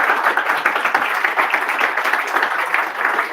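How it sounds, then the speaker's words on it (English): A comedy festival audience in Leicester gives a dense, even round of applause lasting a few seconds, with many hands clapping together at a steady level and no voices on top. "You may as well give James a round of applause for that."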